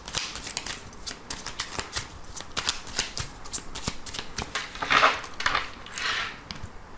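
Oracle cards shuffled by hand close up, a steady run of quick papery riffles and slaps continuing for several seconds with no talking.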